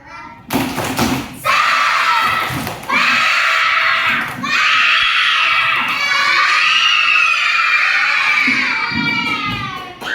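Schoolchildren in an Indonesian classroom chant and clap a 'tepuk semangat' spirit cheer together. The group voices ring loud and steady, punctuated by rhythmic claps and thumps, with a brief pause between bursts.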